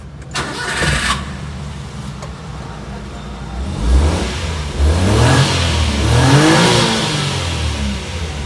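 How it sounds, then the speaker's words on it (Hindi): A 2016 Daihatsu Hijet engine, freshly serviced after misfiring and a fuel fault, cranks and starts, then revs up and down in rising and falling surges during a test drive, loud and close. "गाड़ी की हम ले रहे हैं टेस्ट ड्राइव"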